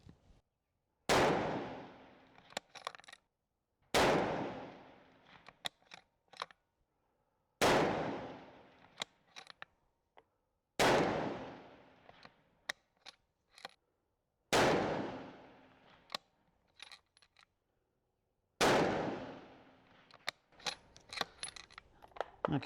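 Rifle shots from an F-Class match rifle with handloaded ammunition on a 300-yard range test, six sharp loud reports spaced about every three to four seconds, each followed by a short decaying echo, with faint clicks of the action between shots.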